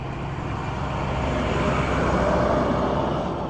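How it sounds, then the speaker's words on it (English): A large dump truck drives past on a downtown street in Rockport, Texas, a steady broadband engine and road rumble swelling slightly as it nears and passes, with no talk over it. "Dump truck."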